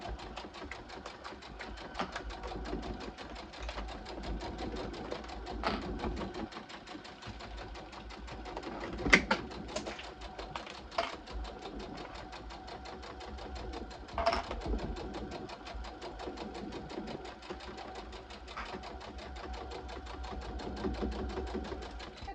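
A sewing machine stitching a small fabric book sleeve, a steady rapid mechanical chatter with occasional louder clunks as it runs over seams, heard close and fairly quiet.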